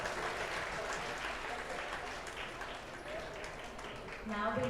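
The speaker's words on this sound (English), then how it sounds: "Please give them a good round of applause." Audience applause at a pharmacy college event, steady dense clapping from a large crowd that continues evenly for the whole stretch, moderately loud and unbroken, with a faint voice near the end.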